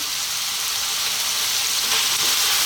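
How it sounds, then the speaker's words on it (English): Chunky eggplant pieces hitting frying onions in a hot pan, a loud, dense sizzle that fills the moment close up, with no voices. "we're now going to add in our eggplant"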